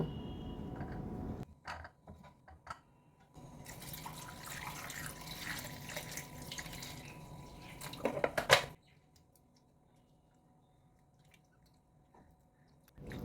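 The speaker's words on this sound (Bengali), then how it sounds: "এবার এগুলোকে ভালো করে জল দিয়ে আমি ধুয়ে নেব" Raw papaya pieces being washed by hand in water, with splashing, squishing and sloshing for about seven seconds, a sharp clatter near the end, then a quiet stretch with faint drips.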